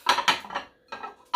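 Park Designs ceramic plates, microwave and dishwasher safe, clink and clatter as they are handled and stacked, several sharp close knocks in quick bursts.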